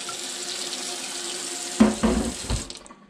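Water runs steadily from a tap into a pressure canner being readied to preserve celery, a continuous close rush that ends in a few splashy gushes and fades as the flow is shut off; no talk.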